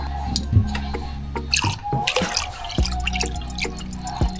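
Water is poured into a container to cover a car's thermostat valve for testing, giving close, irregular drips, splashes and trickles in uneven bursts.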